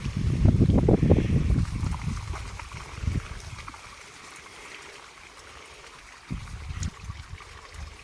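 Water pours and gushes into the dug basin around a mango tree, loud and splashy at first, then easing to a softer steady trickle with a brief surge near the end; no one speaks.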